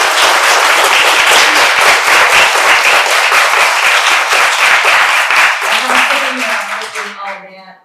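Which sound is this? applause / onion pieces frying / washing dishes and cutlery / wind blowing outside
applause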